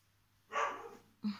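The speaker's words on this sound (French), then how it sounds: "il s'exprime bien ce chien là aujourd'hui" A dog gives one hoarse bark nearby and then a shorter, sharper yip in an otherwise quiet room.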